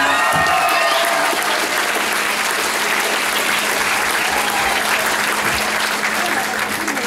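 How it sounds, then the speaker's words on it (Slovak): An audience at a Christmas school performance breaks into loud, sustained applause after the children's dances, dense clapping filling the hall from start to finish with a voice faintly audible underneath. "takže skutočne velikánsky potlesk"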